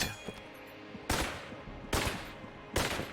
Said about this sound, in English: Just shoot some random walls.